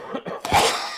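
A person coughs a few times in quick succession, close and fairly loud, with short rough bursts and a raspier final cough, no speech around it.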